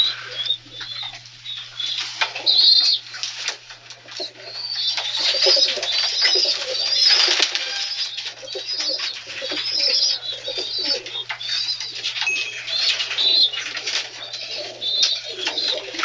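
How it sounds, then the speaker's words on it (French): Racing pigeons in a loft in France's Nord-Pas-de-Calais mining basin coo and murmur continuously, with bursts of wing flapping and scratchy rustling, loud and close throughout over a faint steady hum. "Vos pigeons, par exemple, vous les élevez vous-même? Oui, on les élève nous-mêmes."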